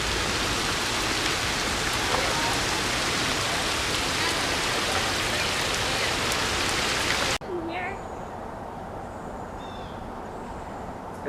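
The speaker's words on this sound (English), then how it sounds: "It'll just cloud up and rain for a half hour." Heavy rain pours down in a summer thunderstorm in Ohio, a loud, dense, even hiss for several seconds, then it cuts abruptly to a quieter, lighter patter.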